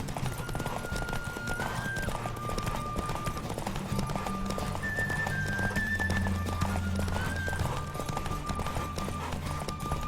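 Rapid galloping hoofbeats from a horse in The Witcher 3: Wild Hunt pound steadily under a looping game music track, with a brief whinny, continuous and close throughout.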